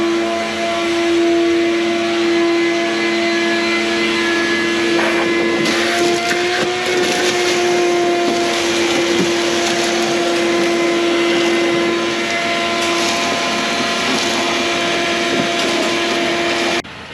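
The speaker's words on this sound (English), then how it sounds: "I'm gonna go ahead and do a quick vacuum here." A vacuum cleaner runs continuously nearby, a loud steady whine with a droning hum and occasional shifts in pitch as it moves.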